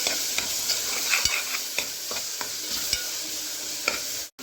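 Ingredients are sautéed in a pan with a spoon, with repeated scraping and stirring strokes over a continuous frying sizzle, close and moderately loud, and a short drop-out near the end.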